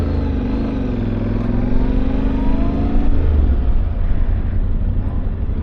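A Yamaha Ténéré motorcycle engine drones loud and steady on a test ride, its pitch rising and falling gently as the rider works the throttle, with wind rumble underneath.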